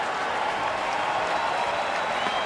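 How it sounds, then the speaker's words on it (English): Baseball stadium crowd of about 41,000 applauding at a Diamondbacks–Tigers game, a dense, continuous wash of clapping and cheering at steady loudness with no break. "Crowd getting into it."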